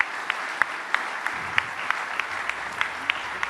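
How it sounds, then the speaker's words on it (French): A seated audience at the 2021 Trophée de l'Industrie award ceremony applauds the winners with even, moderately loud clapping and a few sharper individual claps standing out at regular intervals. No one speaks. "On peut les applaudir."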